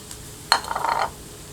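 Sliced onions tipped into a pan with bay leaf for chicken korma, a quick clatter and scrape as they land, followed by a short burst of light rustling and soft sizzle, faint and close.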